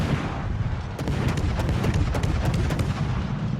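Naval guns of the French cruiser Colbert and nearby warships firing in World of Warships, a steady rumble of booming salvos with sharp repeated reports, loud and continuous throughout.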